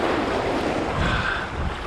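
Sea waves rolling in steadily, a fairly calm surf rather than pounding breakers, with broadband wash and wind rumble filling the whole moment at close range and no voices.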